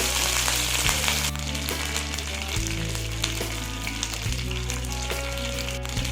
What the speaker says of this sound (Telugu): కరివేపాకు క్రిస్పీగా అయినంత వరకు ఫ్రై చేసుకోవాలి.